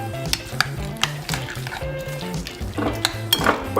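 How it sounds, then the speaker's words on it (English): Tuna salad ingredients with avocado and pickling juice are stirred together in a bowl, a utensil clinking and scraping against the sides in an uneven rhythm of close, crisp knocks with no talk. "Okay, now I'm gonna mix all this up."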